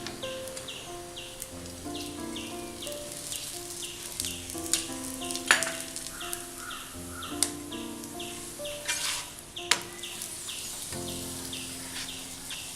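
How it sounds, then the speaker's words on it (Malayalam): A soft layered chapati fries in oil on a hot pan over a full flame with a continuous close sizzle, broken by occasional sharp pops and clicks from turning it. "മറിച്ചിട്ടതിന് ശേഷം ഇതിൻ്റെ പുറത്തേക്ക് എണ്ണ ഒഴിച്ചെടുക്കുക."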